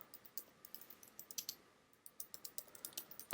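Quick irregular clicks of fingers typing on a computer keyboard, quiet and close, with a brief pause midway before the keystrokes resume.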